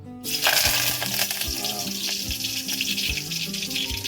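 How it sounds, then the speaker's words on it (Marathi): Curry leaves hitting hot oil in a pan, bursting into a loud sizzle and crackle that settles into steady frying with occasional sharp pops, along with some clattering. "तेल तापला आणि आता आपण टाकूया इकडे कढीपत्ता"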